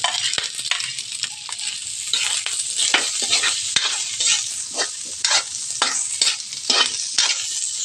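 Boiled pork and garlic fry in a pan with a loud, close sizzle, broken by repeated scraping stirs of a utensil against the pan, no voices.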